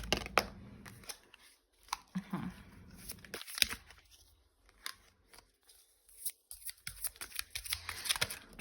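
Tarot cards are shuffled by hand, giving close, crisp riffles, snaps and papery slides in intermittent bursts with short quiet gaps between them.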